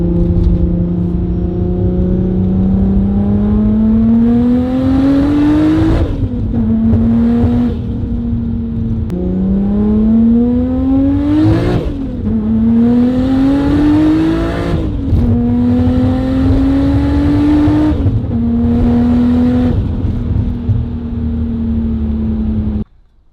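Nissan R32 GTR engine heard from inside while driving, pulling loudly through several gears with rising pitch on each acceleration, brief dips at each shift, then cutting off at the end.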